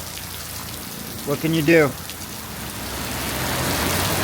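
Steady rain falls beside a coastal Malaysian road with no shoulder, a constant hiss throughout, and someone briefly speaks over it partway through.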